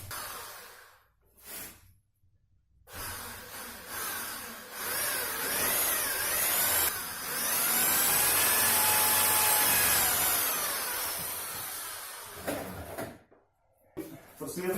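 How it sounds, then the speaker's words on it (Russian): A drill bores a hole into a wooden desk top. The whirring grind rises and falls, loud and close, through the middle of the stretch, with short quieter gaps before and after. "Просверлили отверстие"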